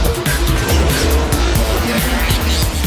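A World Rally Championship car driving on slippery ice, its engine roaring loudly and continuously up close with revving shifts and tire noise, while a voice talks over it.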